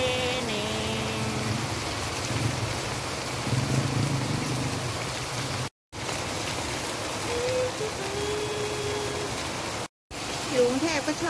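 Steady rain falling in Bangkok, Thailand, a constant wash of hiss with faint voices and a passing tone in the background.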